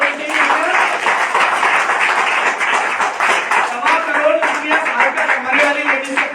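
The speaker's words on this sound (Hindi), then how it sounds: "तो मैं जोरदार तालियों से स्वागत करूंगा मेरी वाइफ का" An audience bursts into loud, sustained clapping to welcome a man's wife at an indoor event, with a dense, even wash of hands lasting several seconds and voices mixed faintly into it.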